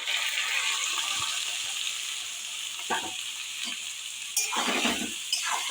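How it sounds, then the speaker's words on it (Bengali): Jackfruit frying in a pan with salt, a steady loud sizzle throughout with occasional stirring scrapes and bursts of spattering, no voices. "কাঁঠালটাকে একটু ফ্রাই করে নিই"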